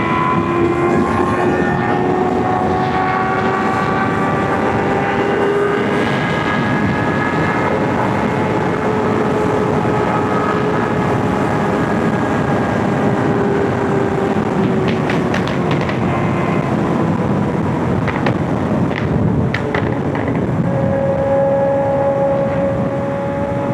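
Motorcycle ridden hard, its engine droning loud and steady with rising and falling pitch as it revs through the gears, and wind rush underneath for the whole stretch.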